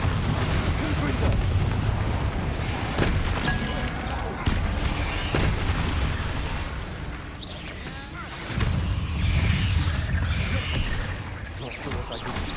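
Spell explosions from Bombarda and Confringo in Hogwarts Legacy, several dull booms and bursts scattered through continuous battle noise and low rumbling.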